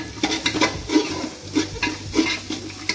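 Cumin and coriander powder fry in a pan while being stirred, with repeated scraping strokes in an uneven rhythm over a soft sizzle, close and moderately loud, with no talking.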